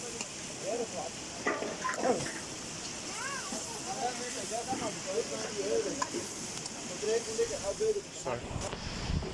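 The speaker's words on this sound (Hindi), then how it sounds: "अब पानी जो है वो खूब उबल चुका है" A pot of water bubbles and hisses in a steady rolling boil, close by, with people talking over it.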